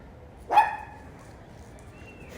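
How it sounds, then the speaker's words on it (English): A single dog bark, brief and moderately distant, rising sharply out of a quiet room and fading quickly, with nothing else following. "A dog is barking."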